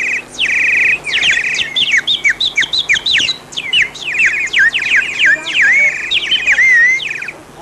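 A water-filled bird whistle toy chirps with bright warbling whistles that trill and twitter continuously, close and fairly loud, with rapid bird-like up-and-down notes and brief pauses between bursts.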